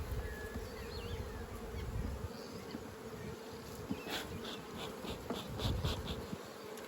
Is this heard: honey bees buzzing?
yes